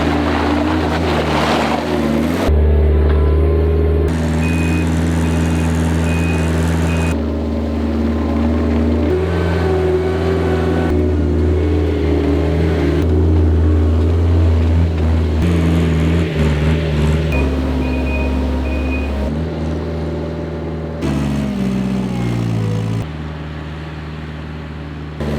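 A Bomaq B30 MP 4WD off-road forklift engine runs loud and close for a long stretch, with a steady drone that shifts in pitch a few times as it revs and settles.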